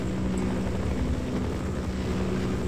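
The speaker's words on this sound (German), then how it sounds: "Und den Heli höre ich immer noch." A steady helicopter engine drone in the game Half-Life with a low rumbling hum, constant and fairly loud throughout, no voices.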